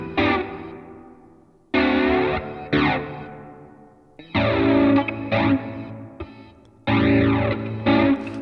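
Music track run through a Studio One Gate plugin: dense sustained synth-like bursts that cut off abruptly to near silence, several times, leaving gaps between loud blocks with no talk.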